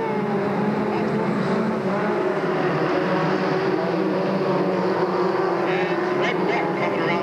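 Race cars at Delta Speedway roar into a corner three wide, with a steady, loud blend of engines droning close by and a commentator talking over them throughout.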